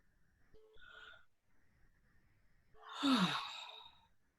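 A person yawns with a long, breathy, drawn-out exhale that trails off, following a softer vocal sound, with no talking.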